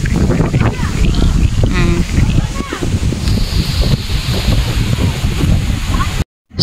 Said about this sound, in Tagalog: Kaya sobrang ang lakas ng hangin.